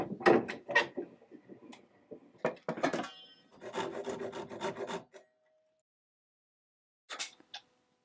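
Wood is roughly cut out of the back of a broken chair to expose a dowel, heard as close, irregular scraping and sawing strokes in short bursts, with quiet gaps between them.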